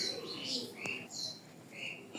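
A red checker pied pigeon, a Pakistani racer, calls with a few soft chirping notes amid faint background noise, close by and without talk.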